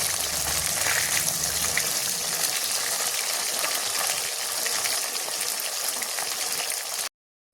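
Fish pieces fry in oil in a pan for a Bengali fish curry, giving a loud, steady hissing sizzle that holds evenly for about seven seconds and then stops abruptly; no one speaks.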